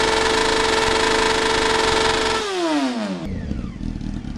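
A modified Honda XRE motorcycle engine runs close by with a loud, steady buzzing drone that then winds down and settles into a rougher, quieter idle.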